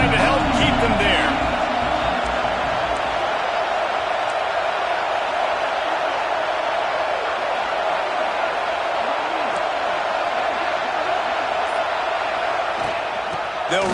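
A college football stadium crowd roars steadily through the final seconds of a game, sustained distant cheering and noise under an announcer's continuous play-by-play commentary.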